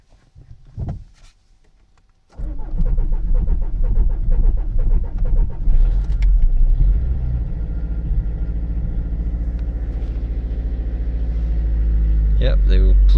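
A 1996 Peugeot 405 1.9 turbo diesel cranks briefly and catches on a cold start, then runs with a loud, steady diesel clatter held at raised revs, after a short bit of speech beforehand.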